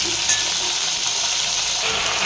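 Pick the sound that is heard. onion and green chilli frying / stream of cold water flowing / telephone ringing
onion and green chilli frying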